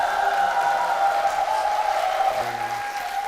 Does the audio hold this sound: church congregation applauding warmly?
yes